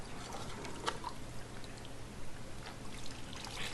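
Water poured and trickling in small amounts onto a seam of a Bronco during wet sanding of fresh car paint, faint and close, with a few light splashes.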